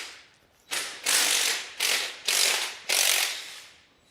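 A hand ratchet turns out 10 mm bolts holding a power steering unit during an engine swap, heard as four loud, close bursts of rapid pawl clicking with brief pauses between strokes.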